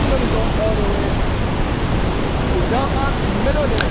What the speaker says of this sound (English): let's talk about this waterfall a little bit